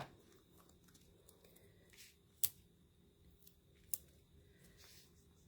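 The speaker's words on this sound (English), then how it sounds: "make sure you cut all of those bits of dimensional up to get the most out of your product" Scissors snip dimensional card embellishments in quiet, sparse cuts with soft paper rustling between them, including two crisp louder snips.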